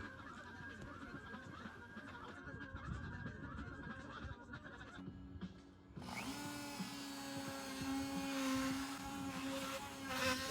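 A router trimming the wood edge of a subwoofer box port, heard as a loud, continuous high whine that changes character halfway through as the bit engages, close by and without speech.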